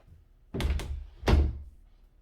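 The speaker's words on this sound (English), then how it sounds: "Let me close this door." A door being closed at home, producing a pair of quick wooden knocks followed by a firmer thunk, close and clear with nothing else around.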